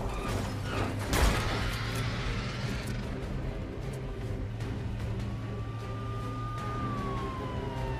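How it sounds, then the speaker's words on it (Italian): A faint ambulance siren in the video game A Quiet Place wails in the distance, a drawn-out tone rising and falling over a constant mechanical rumble, with a brief sharp knock early on. "Ambulanza."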